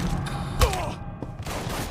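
Gunfire in the video game Mafia 3, a single loud shot standing out briefly within a dense, noisy firefight din, with a voice and other battle sounds underneath.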